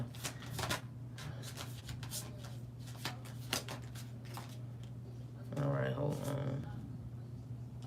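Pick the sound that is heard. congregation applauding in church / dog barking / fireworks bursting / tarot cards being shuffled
tarot cards being shuffled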